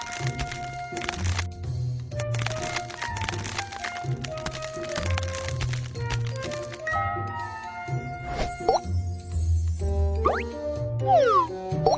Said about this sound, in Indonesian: Remas agar kantong bagian dalam terbuka. Kocok kompres es untuk mendinginkannya.